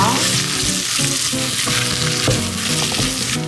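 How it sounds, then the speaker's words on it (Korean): Onion and cheongyang chili peppers stir-fried together in a pan for a spicy gochujang stew, a loud steady sizzle running throughout with the repeated scrape and clatter of a spatula tossing the pieces. "양파 넣고 청양고추 한 번에 다 같이 달달 달 볶아주세요."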